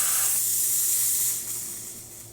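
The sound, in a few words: steam wand hissing on Lelit Mara X espresso machine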